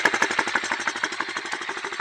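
A Chinese pit bike engine, recently rebuilt after the frame split in half, runs steadily in a fast, even putter with a slight knocking rhythm, close and alone.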